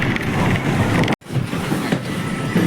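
An HRTC bus on the Keylong to Delhi route gives off a continuous rattling clatter much like a train's clickety-clack, steady and fairly loud apart from one abrupt brief cut, with no talking.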